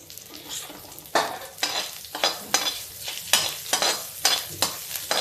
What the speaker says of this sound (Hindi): अब इसमें हम डालेंगे प्याज और गैस को करेंगे स्लो